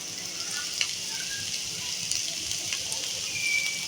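Bitter gourd (karela) frying in a pan, a steady soft sizzle with faint crackles and occasional stirring clicks, close and continuous with no talking.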